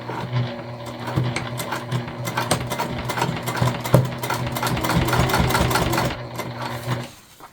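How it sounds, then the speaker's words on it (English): A sewing machine runs a top stitch through layered fabric, a steady fast mechanical chatter with irregular knocks as the tank foot catches on the material, loud and close, cutting off near the end. "a lot of that noise that you just heard, that was the bottom, the base of the tank foot sort of catching onto the material."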